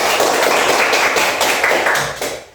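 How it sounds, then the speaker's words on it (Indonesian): A class of fifth-grade students applauding together in a classroom, a loud, dense burst of clapping that holds steady and then fades out at the end. "Tepuk tangan untuk kelas 5."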